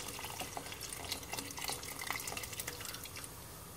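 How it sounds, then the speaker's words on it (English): Tap water runs steadily into a pot of vegetable stock for vegan pho, a continuous splashing and trickling that carries on for several seconds at a moderate level, with no voices. "then I'm going to add 4 cups of water"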